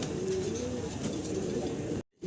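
Pigeons cooing in a loft among birds kept for sale, a low continuous murmuring coo from several birds close by, ending in a brief silence.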